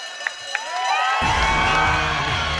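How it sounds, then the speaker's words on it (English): Loud crowd cheering and whooping erupts about a second in and carries on at the end of a mixed martial arts championship fight at UCMMA 54, preceded by a quieter arena murmur with a couple of sharp knocks. "Listen to the crowd, Rob."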